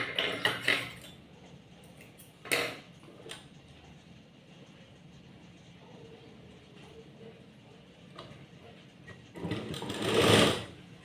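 A sewing machine stitches a sleeve in quiet, intermittent bursts, with short whirring runs separated by pauses and light handling noises, the loudest burst near the end.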